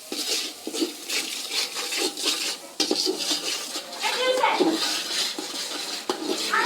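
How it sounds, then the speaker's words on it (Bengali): Spices being stirred and fried in a metal pot for butter masala khichuri, with continuous clattering spoon scrapes against the pot and faint background voices. "মশলাগুলো সব দিয়ে এখন এটা ভালোভাবে কষাই নিই"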